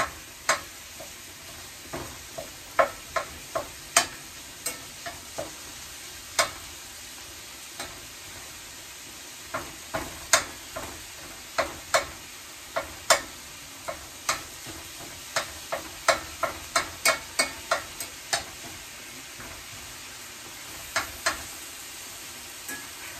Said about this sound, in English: I'll use my spatula. Because you don't want to have just one giant hunk of ground beef.